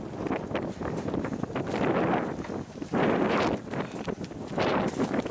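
Gusty wind buffets the microphone outdoors near a livestock barn, a loud, continuous rumbling roar swelling in several strong surges across the whole stretch.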